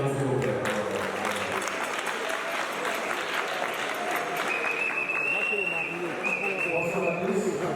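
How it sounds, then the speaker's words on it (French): Wedding guests at a civil-registry wedding ceremony applaud for the bride with steady clapping throughout, mixed with crowd murmur and voices talking over it. "Applaudissez pour Marie, s'il vous plaît."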